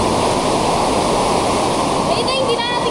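A widening river in a rocky gorge in Lanao del Norte, Philippines, gives off a loud, steady rushing roar that fills the whole clip, with a faint voice briefly mixed in near the end.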